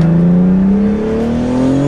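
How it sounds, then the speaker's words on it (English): Mitsubishi Evo engine pulling hard under boost, a loud close rising drone that dips briefly mid-way, as at a gear shift, then climbs again. "Hey, that's how I drive my Evo. Hit the boost, a little bit, and shift."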